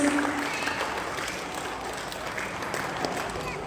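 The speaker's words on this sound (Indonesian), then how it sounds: "Kita beri aplaus lagi buat Bapak Agus." An audience at a talk on storytelling between parents and children applauds the speaker, with continuous moderate clapping from a room full of people.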